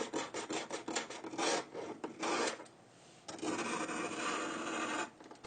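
A razor blade scrapes across the aluminum back of an iPhone 7 in rapid, gritty rasping strokes, close and loud, with a short pause before a longer sustained scratch.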